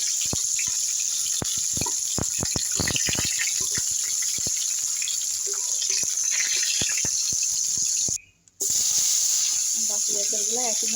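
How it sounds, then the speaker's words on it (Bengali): Jackfruit pieces frying in hot oil give a steady, close, bright sizzle and hiss with scattered sharp pops and crackles, followed by a brief pause before the frying noise resumes. "বাকি এঁচড়গুলো একইভাবেই ভেজে নেব।"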